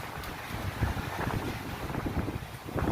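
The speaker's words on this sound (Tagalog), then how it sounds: "lakas ng hangin, ang ingay" Strong wind buffets the microphone in a steady, roaring rush with gusty low rumbles, loud and continuous throughout, at a bowling tournament in Manila.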